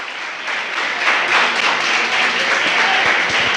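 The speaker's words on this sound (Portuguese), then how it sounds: "Aplauda bem forte." A church congregation applauding, a dense, steady wash of many hands clapping at moderate loudness, lasting several seconds.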